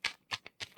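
Tarot cards are shuffled by hand in soft, quick riffling bursts, three or four brisk flutters close by and fairly quiet.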